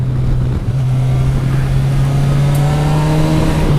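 A Kawasaki Versys 1000 SE GT motorcycle engine hums steadily while riding, a loud close drone with rushing wind noise and no voices.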